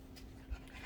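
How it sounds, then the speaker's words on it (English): A dog pants briefly and softly indoors, breathing quickly and faintly at close range for under a second. "my dog just came in and now she's panting."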